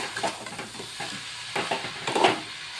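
Carrot halwa stirred in a pan, a spatula turning the thick mixture in soft, uneven scrapes over a faint sizzle, near and moderate in level, with no talking.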